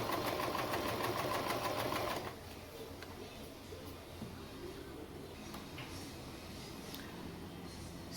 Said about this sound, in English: So now you make sure your needle is in the middle of the net like this. Then you sew.